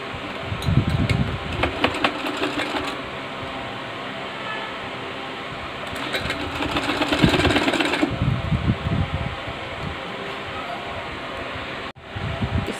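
A sewing machine runs in bursts while stitching a folded kurti neckline, its steady mechanical whir rising and falling close by with short pauses between runs.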